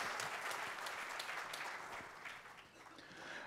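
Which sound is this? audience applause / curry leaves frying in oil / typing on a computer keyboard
audience applause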